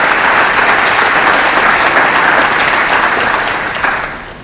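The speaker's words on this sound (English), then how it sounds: "So let's give them a round of applause." A large audience at a school athletics signing day gives a loud, sustained round of dense clapping that holds steady and then tapers off slightly at the end.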